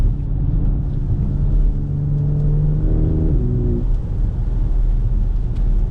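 BMW X3 M with a loud aftermarket exhaust, heard from inside the cabin as the engine rumbles and then revs up through rising tones before settling back to a deep idle drone.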